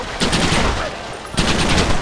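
Gunfire in the video game Red Dead Redemption: two loud, close bursts of rapid shots, each lasting about a second, separated by a brief lull.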